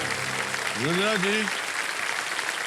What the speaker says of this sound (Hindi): बहुत जोर से ताली बजाया उन्होंने आपको